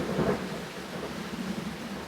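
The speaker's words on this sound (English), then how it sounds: "that's not a recording, that's real thunder and pouring down up there." Heavy real rain pours down in the Swiss Alps with a low rumble of thunder rolling through, a dense continuous wash of sound that swells early and then settles into steady downpour.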